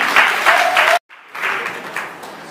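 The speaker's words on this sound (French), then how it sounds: "Vous pouvez applaudisser, s'il vous plaît." Audience applause bursts out loudly in a dense clatter of many hands, drops to a sudden gap of silence, then picks up again slightly softer and carries on to the end.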